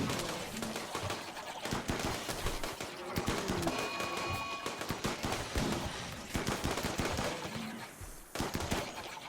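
Gunfire from a colony firefight in the video game RimWorld Royalty: dense, rapid bursts of shots and impacts layered over a busy game soundscape, loud and continuous throughout with no speech.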